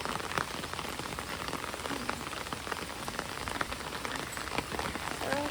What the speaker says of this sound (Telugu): చూడండి ఎట్లా పడుతుందో వర్షం నంద్యాలలో.